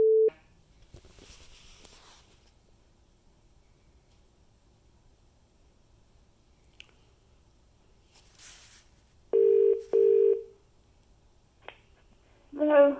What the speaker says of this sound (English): you can now make phone calls from the Google Home Mini